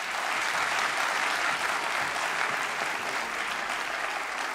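An audience at a children's carnival mask contest gives a steady round of applause, a dense even wash of many clapping hands heard from a moderate distance, unbroken throughout.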